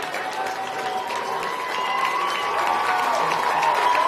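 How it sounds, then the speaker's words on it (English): Baseball crowd at a 6A high school tournament game applauding and cheering, a broad wash of clapping and voices that swells slightly toward the end. "Vikings faithful in early to applaud."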